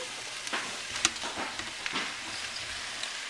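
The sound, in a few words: beef pieces added back into a hot Dutch oven, sizzling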